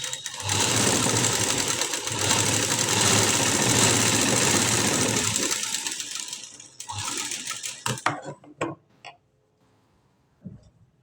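Sewing machine running steadily and loudly while stitching a puff sleeve, a continuous whirring drone for about five seconds, then short bursts and separate stitches as it slows and stops, followed by faint handling sounds.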